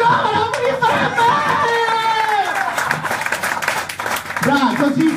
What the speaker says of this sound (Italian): Un applauso di nuovo, un rifatto!